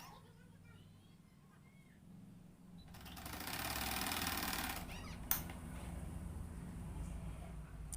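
Sewing machine running a line of stitches along a fabric edge for a double katori blouse, a steady mechanical whir that starts partway through and continues faint and close, with a brief click and low voices in the background.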